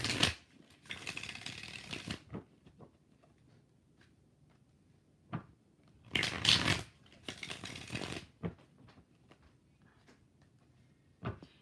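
Several bursts of tarot cards being shuffled, riffling in short rapid runs separated by quiet pauses, with scattered light taps between.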